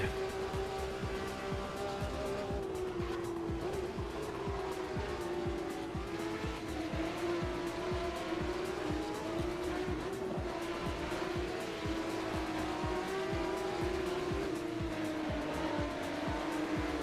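A race car in a sim racing game holds a steady high engine drone for the full stretch, with intermittent tire squeal and skidding layered over it as the car runs near the curbs.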